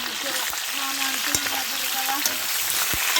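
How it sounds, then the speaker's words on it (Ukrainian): A frying pan sizzles steadily on a stove with a continuous hiss, punctuated by a few sharp clicks and taps, with faint background voices. "Сковорідка наша скворчить"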